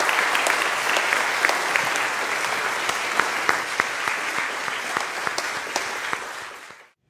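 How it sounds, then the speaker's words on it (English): Church congregation at a Sunday service applauds to welcome a band, giving a dense, sustained round of clapping that fills the room for several seconds before quickly tapering off. "Let's welcome them with a round of applause this morning."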